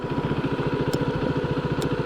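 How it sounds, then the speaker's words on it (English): A KTM RC390 motorcycle engine idles close by in a steady, evenly pulsing chug that runs unbroken throughout, with no other sounds. "ignition start."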